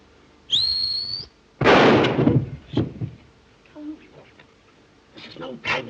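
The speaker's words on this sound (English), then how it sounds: "This is no time to whistle." A short, high whistled note rings out alone, followed by thumps, clatter and scattered noises.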